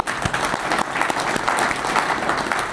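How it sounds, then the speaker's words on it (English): Studio audience at an amateur radio club meeting clapping steadily together, a dense round of applause that continues at even strength without talk. "we'll clap for them too."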